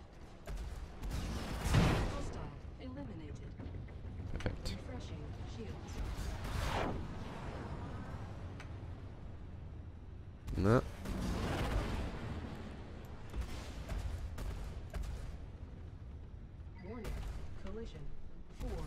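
Ship cannons in a Star Citizen dogfight against a Vanduul swarm: rumbling engine drone with scattered gunfire bursts and a couple of sharper booming impacts, under intermittent talk from a player.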